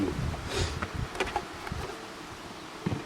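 Honeybees buzzing at an open hive during spring colony inspection, a close, moderately loud drone with overlapping individual flybys and no voices.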